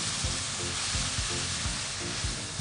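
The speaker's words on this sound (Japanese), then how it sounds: "下味をつけておいたお肉をドーンとお鍋に入れます。 で、ほぐしながら炒めていきます。" Meat marinated with potato starch sizzles and fries loudly in a pot with onions, a constant crackling hiss broken by scraping stirs at irregular intervals as the meat is broken apart.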